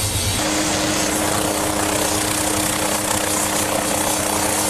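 A Fire Scout drone helicopter powered by a single Rolls-Royce heavy-fuel turboshaft engine gives off a constant, loud whine and rotor drone, steady and unbroken from start to finish with no talking.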